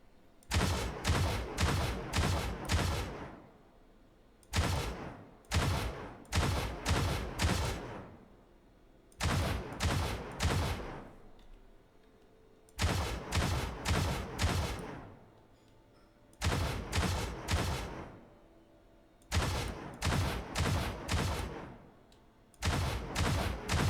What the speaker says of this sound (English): let's try and see the guns firing from outside